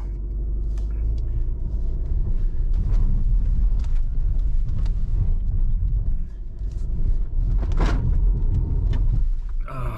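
A 2021 Kia Sorento climbs a steep off-road line, its engine a steady low rumble with body creaks and occasional knocks as it works over rough ground, close and continuous.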